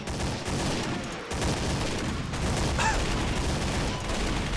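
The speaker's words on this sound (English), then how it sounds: "Oh god, I just shot someone." Gunfire in the Warcraft 3 Reforged custom game Undead Assault 2, a dense, continuous crackle of shots running through the whole stretch, loud and close with no talk over it.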